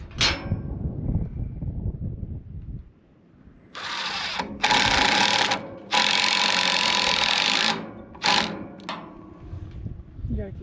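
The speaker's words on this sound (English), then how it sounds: "put some more screws in it" Power drill driving screws into wood on a farm, several loud whirring bursts of a few seconds each, close by, with talk and handling noise before them.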